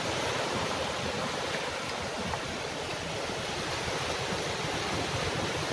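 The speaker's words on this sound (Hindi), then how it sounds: "झरना तो इतना तेज है कि पैर लग रहे हैं हमारे।" A fast mountain waterfall near Mana village in Uttarakhand roars as a loud, dense, unbroken rush of water, close by and alone, with no talk over it.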